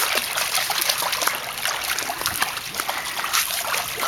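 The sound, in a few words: dog swimming, splashing water with its feet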